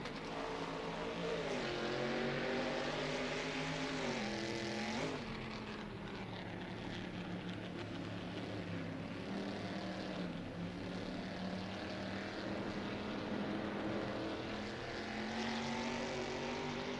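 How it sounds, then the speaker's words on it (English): A continuous engine drone with shifting harmonic pitch from a 1960s GTC racing car in a video game, heard at a distance from the finish line on the final lap, steady and moderately loud with no voices. "You can hear the car's engine in the distance."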